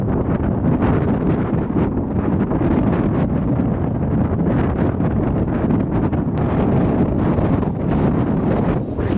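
Strong, steady wind buffets the microphone while running along a beach estuary at low tide, a loud continuous roar that fills the whole stretch without letting up.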